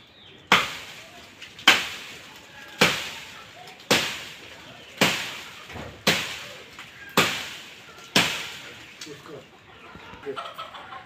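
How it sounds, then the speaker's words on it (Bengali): Repeated chopping of guava trees with a hand tool outdoors, eight sharp, loud strikes roughly a second apart, each ringing briefly before the next, with birds and fowl calling faintly in the background. "তার জন্য আপনার গাছগুলো কেটে বাড়িটা একটু পরিষ্কার করে দিই।"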